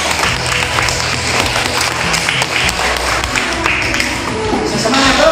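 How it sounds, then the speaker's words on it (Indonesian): A classroom of students claps loudly and steadily for a group that has just finished presenting, a dense wash of hands with a busy room murmur underneath. "kita tepuk tangan untuk kelompok satu dulu"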